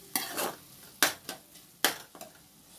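Tomatoes frying in a pan, a spatula scraping and stirring in three clustered strokes over a faint, low sizzle, close up and with no talk.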